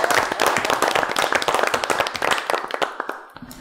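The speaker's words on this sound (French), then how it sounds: "Fait une belle main d'applaudissement." Hand clapping from a small audience at a town council meeting, a dense burst of claps that stays steady then thins and trails off near the end, close and fairly loud.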